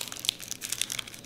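A British chocolate bar wrapper crinkles and crackles as it is pulled open, with a quick run of faint plastic rustles and a few sharper crinkle snaps close by.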